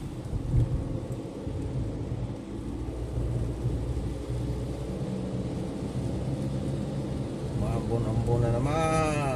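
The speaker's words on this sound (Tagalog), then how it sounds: "Walang katapos-tapos yung ulan mga katrops" Steady rain heard from inside a car at an airport terminal, a continuous broadband wash of drops on the vehicle with low engine rumble beneath, a faint voice near the end.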